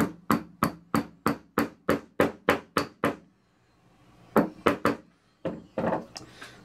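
Press-fit pins are hammered into the top plate of a lathe slotter: a run of about ten sharp, evenly spaced metallic blows, a brief pause, then a few more strikes and some shuffling, close and loud.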